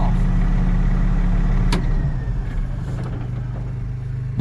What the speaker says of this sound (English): this tractor starts up real well, so I'll just shut it off